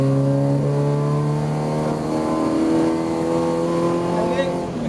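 An all-motor Honda Civic with an H23A engine accelerating hard on a street pull, its engine note climbing steadily and loud from inside the car, with people talking over it.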